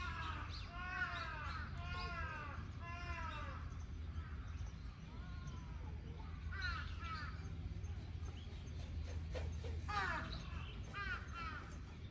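Crow-like bird giving repeated harsh caws in a few quick bursts, moderately close over a low outdoor hum, with faint voices in the background.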